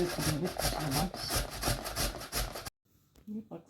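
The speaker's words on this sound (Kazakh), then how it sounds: "Баклажанды осылайынша соқтап турап алдық." A knife cuts eggplant into small pieces on a cutting board with quick, rhythmic, close strokes that stop abruptly, followed by a short quieter stretch with a few softer sounds.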